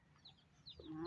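Faint high cheeping of chicks on a rural farm plot, a few short thin peeps up close in a quiet setting.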